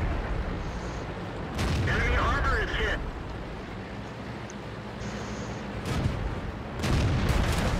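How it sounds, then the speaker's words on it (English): A Soviet KV1 heavy tank in World of Tanks fires its cannon in deep, booming shots, several spaced blasts rising out of a rumbling battlefield background. "And our KV1 is missing every shot he's taking here."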